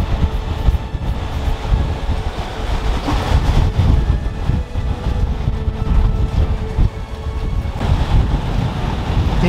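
Strong ocean waves crash and surge on a beach in Western Australia, with a continuous loud roar and wind buffeting the microphone, no voices.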